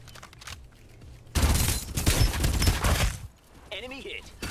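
Bursts of automatic gunfire in the battle royale game Farlight 84, loud and dense across the middle of the clip, with game effects and voice lines around it.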